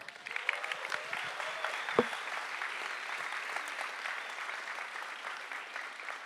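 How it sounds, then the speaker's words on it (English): Science slam audience applauding a volunteer on stage, a steady crowd clapping wash with a sharp bump near the start, moderately distant and continuous. "Please, great applause for Achim."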